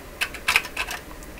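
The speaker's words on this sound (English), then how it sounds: "Typing will send the typing," Someone taps several keys on a Morse writer keyboard, producing a handful of short, sharp clicks spaced irregularly over a quiet background.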